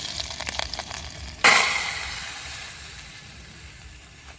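Chili dropped into hot oil for a tempering, with a sudden loud burst of sizzling that then fades gradually into a softer steady hiss, close by.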